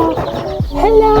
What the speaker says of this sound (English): the baby chicks, they are afraid, they are not understanding what's happening